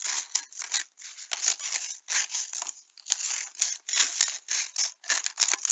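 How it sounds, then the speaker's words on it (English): Scissors cut around a piece of card in steady, close snips, each one a crisp crunch repeated with short gaps and no voices over them. "just take your scissors and just kind of go around"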